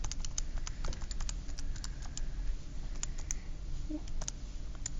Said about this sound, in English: Again, I'm going to use my calculator.